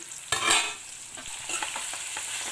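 A spatula stirs brinjal curry in a pan, a brief loud scrape followed by a low simmering sizzle and a run of soft rhythmic stirring taps, nearby and without speech.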